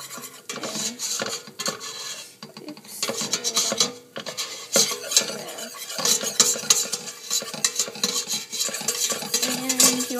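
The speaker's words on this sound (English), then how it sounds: "And I want to whisk everything thoroughly." A whisk scrapes and rasps rhythmically around a pot as flour is worked into a broccoli cheddar soup base, close and continuous with brief pauses and metallic clinks, no talking.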